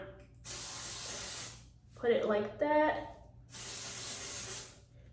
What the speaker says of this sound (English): So I'm gonna use some of this Got To Be glue spray